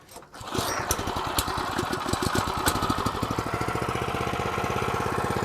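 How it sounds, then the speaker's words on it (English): A McLane reel mower's small engine catches after a brief start and settles into a steady, rapid idle that stays close and loud. "let's go ahead and fire the McLane up real quick"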